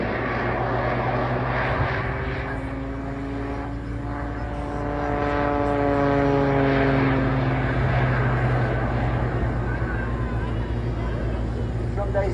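A propeller-driven aerobatic aircraft performs a flat spin at the Blackpool Airshow, its engine droning at a distance with a rising and falling pitch, heard beneath a commentator talking.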